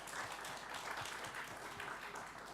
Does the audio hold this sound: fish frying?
no